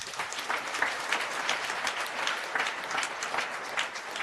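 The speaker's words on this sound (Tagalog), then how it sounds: "Sino sa inyong naniniwala na love siya ni Lord? Pumalakpak ng malakas." Church congregation claps loudly during a homily, a dense, continuous rattle of many hands with slight surges, filling the space evenly and heard alone without speech.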